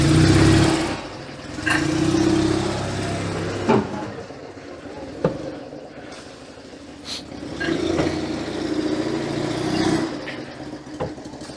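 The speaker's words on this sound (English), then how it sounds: "And increase engine revs." An Invacar's small engine revs in repeated bursts, climbing and easing off several times over a low idle, with scattered clicks and knocks between the pulls.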